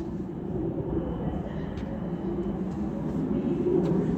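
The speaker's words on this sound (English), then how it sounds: "coming in behind me is a Northern Class 150 from Manchester Piccadilly to Buxton" Northern Class 150 diesel train pulling into Stockport station, a steady low rumble and rolling hum close by, with a few faint higher clicks over it.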